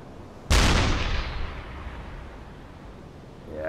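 A single heavy deck-gun shell fires from a ship in the Uboat submarine game, a loud sudden blast at about half a second that rolls off into a long rumbling decay.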